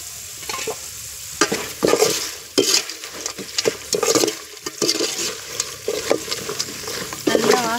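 Powdered fenugreek and asafoetida frying in hot oil for tamarind rice, with a soft sizzle under repeated scraping and clattering strokes of a spoon stirring the pan.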